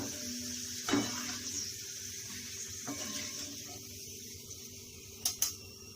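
Sago pearls (sabudana) frying in hot oil, a soft steady sizzle with a few sharp clinks of a utensil against the pan, quiet and close.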